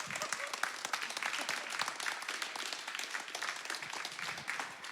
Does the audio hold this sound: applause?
yes